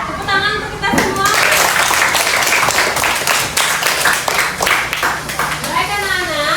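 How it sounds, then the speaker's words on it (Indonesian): A classroom of children clapping, loud and dense for several seconds, with a teacher's and kids' voices over the start and end. "Ya, tepuk tangan untuk kita semua"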